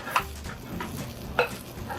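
Sour cherries caramelize with sugar in a frying pan, a soft steady sizzle under occasional light utensil scrapes and stirring taps, close and fairly quiet.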